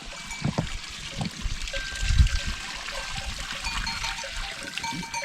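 Water trickles steadily from a cold outdoor fountain while young goat kids drink at it, a continuous close splashing dribble with a few louder low thumps and no talk.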